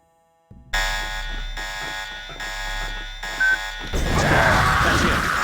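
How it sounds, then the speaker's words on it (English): Inside the video game Deus Ex, a loud electronic alarm blares in a steady pulsing pattern, with a brief higher beep partway through before a harsher, noisier burst takes over near the end. "That's it. Sounding the alarm."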